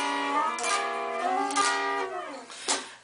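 Guitar notes run through a diminished scale pattern moving up the neck, a few quick plucked phrases with gliding, ringing tones and short gaps, close and soft, no voices.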